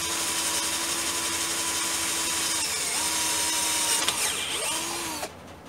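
A Mondial impact drill driver runs at speed setting 1 with a steady whine that holds, dips briefly, rises again and then cuts off near the end, close by and with no talking.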